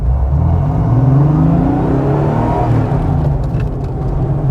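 A Porsche 964 Carrera 2 pulls away under acceleration, its engine a loud, close, low rumbling drone that rises in pitch before easing off, heard from inside the car with no talk.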